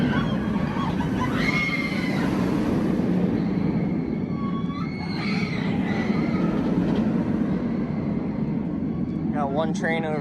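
A Six Flags Great Adventure roller coaster train rumbles along its track under a steady low roar, with scattered screams and distant voices rising over the noise.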